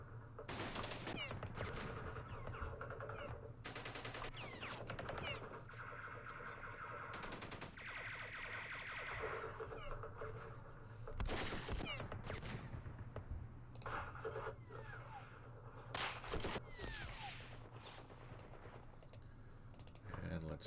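Machine-gun and rifle fire in the Vietnam-era strategy game Campaign Series Vietnam, with bursts of rattling shots mixed with keyboard and mouse clicks over a steady low hum.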